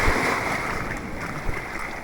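Sea waves washing around a small boat made from a fridge, a steady hiss of water and wind across the microphone with a soft thud midway, no talking.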